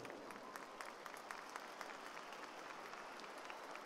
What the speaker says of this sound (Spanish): Vamos a recibirlos con un fuerte y caluroso aplauso.